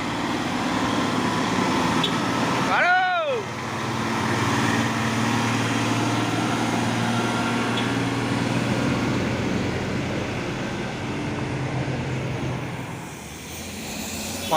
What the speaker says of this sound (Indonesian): Victolin dorong terus sama ADL 136 PS, dan di sebelahnya juga ada satu unit truk tangki CPO pemain Hino 500 Euro 4